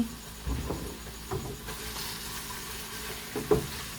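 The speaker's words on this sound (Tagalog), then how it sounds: "nagsasaute na tayo ng chicken and onions" Chicken and onions sauté in a pan, a soft steady sizzle broken by a few gentle stirring knocks and scrapes, fairly quiet and close.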